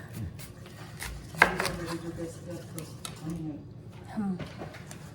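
A knife cuts an onion into thick one-centimeter slices on a board, producing a few soft chops and a sharper knock, with people talking over it.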